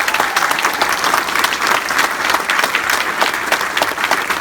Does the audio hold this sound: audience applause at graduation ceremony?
yes